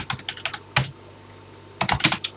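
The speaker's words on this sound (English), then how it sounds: "And let's get typing." Keys clatter on a TI-99/4A home computer keyboard as a BASIC program is typed, in quick bursts of close, crisp clicks with a short pause between flurries.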